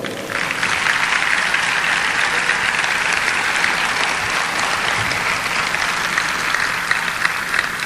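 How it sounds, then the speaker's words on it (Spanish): Sustained audience applause at a celebration marking 70 years of Israel, hosted by the Zionist Council of Mexico, dense and steady throughout at fairly loud level with no talk over it. "Y por lo que pido un aplauso,"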